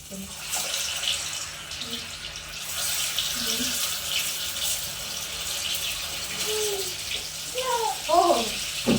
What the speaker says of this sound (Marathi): आता तळून घ्यायचे आहे तेल छान गरम झालं चांगलं कड तळतळलं